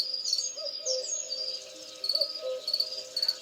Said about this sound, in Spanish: llama un cuco,